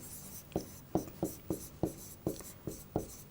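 A pen writes out a maths solution on paper in quick scratchy strokes, about ten short bursts in an uneven rhythm, close and quiet with no speech.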